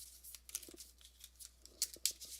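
A small deck of game cards for a single-player board game variant being shuffled, giving quiet, quick papery riffles and flicks in short bursts, close by.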